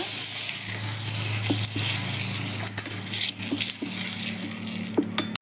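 A hot tempering of dried chilli, asafoetida and curry leaves hits a buttermilk gravy with a steady sizzling hiss and scattered crackles and pops, close and fairly loud.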